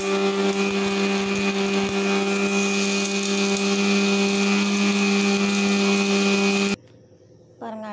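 A mixer grinder grinding betel leaves and areca nut, a loud steady whining motor drone with strong tonal hum that cuts off abruptly near the end, leaving a short quieter stretch with a faint voice.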